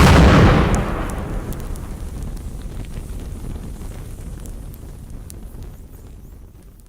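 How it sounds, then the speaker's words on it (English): A tanker truck at a chemical accident bursts into flame with a loud, deep explosive boom that rumbles out, followed by a long, fading roar of fire and wind, with no voices. "Oh, hey guys, the tanker's on fire."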